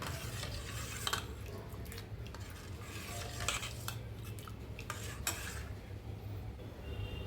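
A spoon stirs a watermelon sharbat mix made with flower-flavoured syrup, giving soft, quiet swirling and occasional light clinks against the vessel, with no talking.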